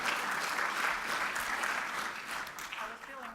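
An audience at a political event bursts into a loud, dense round of applause that fades slightly toward the end, with a voice speaking faintly over it.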